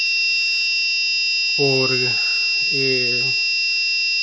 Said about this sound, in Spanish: se activó la alarma de MQ6